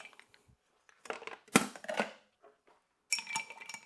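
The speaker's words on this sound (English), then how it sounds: "Add a little ice." Ice cubes clatter and crunch into a glass for a pineapple cocktail, several bright close knocks and rattles in short bursts with quiet gaps between.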